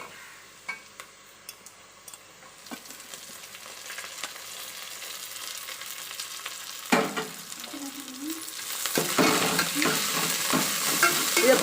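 Onions are sautéed with green chili, mint and coriander leaves for chicken biryani. Quiet clicks and scrapes build into a louder, steady sizzle with stirring strokes in the second half, close by and without talk.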